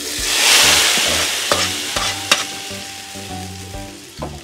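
Mustard seeds and curry leaves sizzle and crackle in hot coconut oil, added as tempering for mango pulissery; a loud, dense frying hiss with repeated sharp pops and stirring clatters, close up with no talking.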